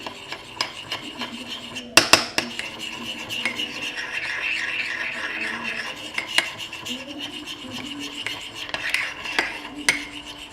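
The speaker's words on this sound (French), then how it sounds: "On mélange la levure jusqu'à ce qu'elle soit bien dissoute." A spoon stirs yeast into a little water in a bowl while making multigrain bread, giving steady scraping and rubbing with light clinks of metal on the bowl, close and fairly quiet, with a few sharper knocks.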